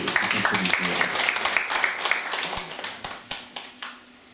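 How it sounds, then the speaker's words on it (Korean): Workshop audience applauding after a digital humanities talk: dense clapping at first that thins into a few separate, fading claps toward the end. "다시 한번 박수 부탁드리고요"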